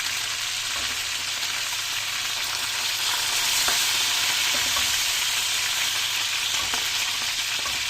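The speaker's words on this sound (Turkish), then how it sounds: "Şöyle bu yüzden de tekrar kızartıyoruz" Chicken cutlets sizzle steadily in a hot pan, a loud, even crackle of frying oil with faint pops and no voices.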